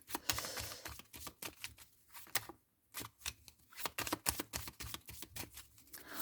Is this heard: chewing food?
no